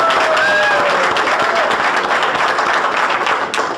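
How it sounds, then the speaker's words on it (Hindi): An audience at a Vestige business meeting claps together, a loud, dense burst of applause lasting a few seconds before it trails off. "पर ताली बजा दीजिए सबके लिए।"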